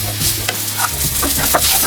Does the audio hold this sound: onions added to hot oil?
yes